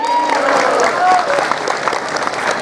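A crowd at an Islamic preaching gathering claps for the santri, dense close applause filling the short stretch with some voices mixed in.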